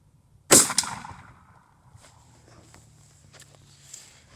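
A shotgun fires a buckshot load with a Federal Flight Control wad outdoors on a range: one sharp, loud blast that trails off into a short echo and a quiet background.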